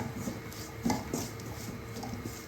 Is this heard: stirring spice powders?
yes